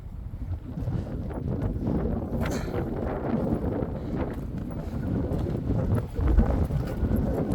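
Strong wind buffets a microphone on a mountain peak, a constant loud low roar with gusty swells throughout and no talking.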